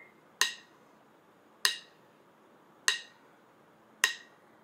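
A phone metronome app ticks at a slower tempo, four crisp, evenly spaced clicks about 1.2 seconds apart, each with a short ringing decay over quiet background.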